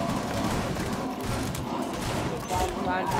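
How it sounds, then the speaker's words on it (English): Dense, continuous gunfire in the Rainbow Six Siege video game, a loud rapid fusillade of overlapping shots with thuds, close and sustained for the whole stretch. "Whoa, I'm being shot at."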